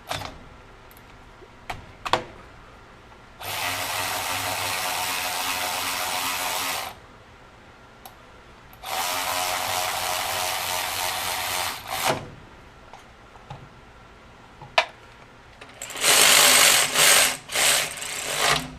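A DeWalt 12V XTREME cordless ratchet drives nylock fasteners in three loud whirring bursts of a few seconds each, separated by quieter pauses with small clicks and handling noises.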